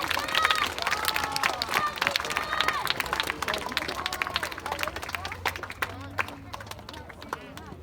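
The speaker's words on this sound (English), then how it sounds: "Let's give all of our personal success recipients a big round of applause." Applause at an elementary school rewards assembly, a crowd of many hands clapping continuously and loudly, then slowly thinning out, with some crowd murmur mixed in.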